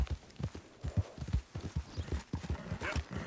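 A horse ridden at pace in Red Dead Redemption 2 beats out quick, rhythmic hoofbeats, close and clear, one strike after another without pause.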